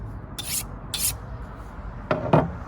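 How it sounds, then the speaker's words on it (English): Trimming knife slicing fat off flanken-cut beef ribs, a few short rasping strokes close by, two scraping cuts then two more, over a low steady background rumble. "Just gonna do some trimming, remove some of that fat, and then we're gonna cook it."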